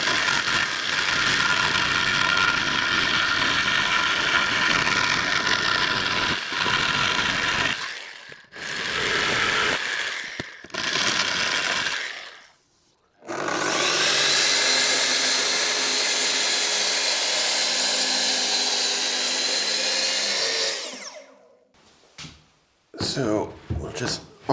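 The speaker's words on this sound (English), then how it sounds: "I'm using the jigsaw pendulum action switched off, and I've got it on quite a slow speed just until I get into this." A jigsaw with pendulum action off, run at slow speed, cutting a kitchen end panel: a loud, harsh buzzing in several bursts separated by short pauses, with a long continuous cut in the middle.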